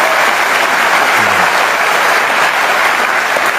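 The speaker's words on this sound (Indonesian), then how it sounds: "Kasih tepuk tangan dong, Cak Lontong" Studio audience applause for Indonesian comedian Cak Lontong on a TV comedy show, a loud, steady burst of clapping from a full crowd that holds at an even level throughout without fading.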